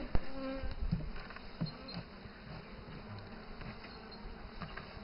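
Dense, continuous buzzing of honeybees around an open beehive with a built-in honey super during frame transfer, loud and close, with a few brief knocks and bumps from handling.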